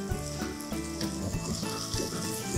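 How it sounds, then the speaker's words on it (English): Sausages go back into a pan of cooking onions and vegetables, a close, steady sizzle and frying crackle with small scraping and stirring clatters. "Now I'm gonna add back my sausages as everything is cooking"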